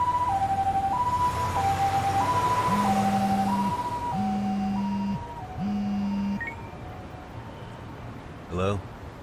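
An ambulance siren wails in a video game, a loud two-tone cycling alongside a lower horn-like tone, then fading away as a voice speaks briefly near the end.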